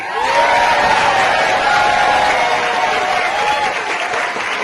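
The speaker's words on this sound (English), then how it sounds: "it's very nice for you to applaud me" A standing-room-only crowd at a democracy rally in Victoria, British Columbia claps loudly and cheers, with whoops rising over dense, sustained applause close by.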